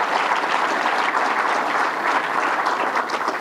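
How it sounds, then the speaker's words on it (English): Dense, loud applause from a large crowd at a governor's public event in honor of Matt Driscoll, an unbroken roar of clapping across the whole stretch. "Let's give him a round of applause."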